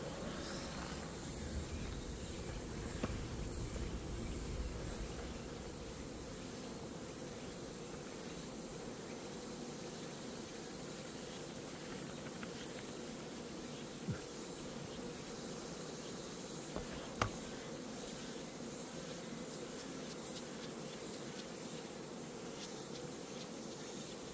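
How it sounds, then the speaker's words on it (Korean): Honeybees droning steadily around an opened hive during a summer inspection, a continuous close buzz filling the whole stretch with a couple of brief knocks partway through. "지금 제가 문을 열어놔서 여기는 벌이 지금 사라지고 있는 거고"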